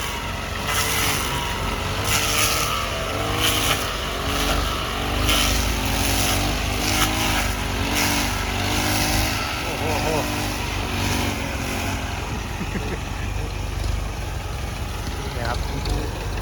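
A sugarcane harvester cutting cane runs with a steady, droning engine and rhythmic mechanical pulses. Someone talks over the continuous machine noise.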